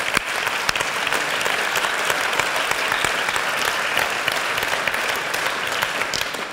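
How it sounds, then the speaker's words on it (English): A conference audience at Inspire 2012 in Munich gives a quick round of applause: dense, even clapping from a large crowd, steady and fairly loud across the whole stretch. "So if we can just give them a quick round of applause"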